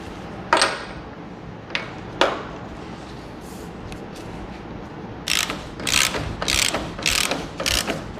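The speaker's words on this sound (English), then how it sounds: "then a ratchet and a 12, so you can, remove or take out some of the tension on the adjuster" Ratchet with a 12 mm socket loosening the chain adjuster on a Yamaha FZ-09 motorcycle: a few isolated clicks, then bursts of rapid ratcheting clicks, close and fairly loud with no talk.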